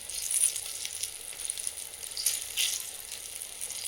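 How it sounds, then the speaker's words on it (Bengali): Eggplant slices fry in oil over low gas, a soft, steady close sizzle with faint crackling bursts and no talk. "গ্যাসটা কমিয়েই ভেজে নেবো বেগুনটা।"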